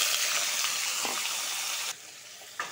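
Chopped papaya tipped into hot oil seasoned with panch phoron and bay leaf, a loud close hiss of sizzling that drops sharply near the end, then a brief flare, with no voices.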